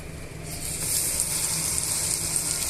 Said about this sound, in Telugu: ఇలా అన్నీ కూడా ఫ్రై చేసుకోవాలండి ఇలా టర్న్ చేసుకొని ఫ్రై చేసుకోవాలండి